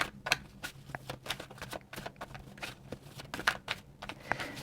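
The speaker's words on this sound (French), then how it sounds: "Même les cartes ont du mal à se mélanger" Tarot cards being shuffled, quick papery riffles and taps in irregular bursts, fairly close and unaccompanied by speech.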